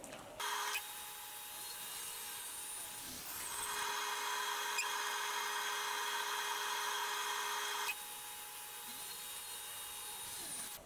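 A table saw cuts through a 5-inch-thick wooden workbench leg. The motor whines steadily throughout, and the noise grows fuller and harsher through the middle of the pass before easing back to a lighter idle.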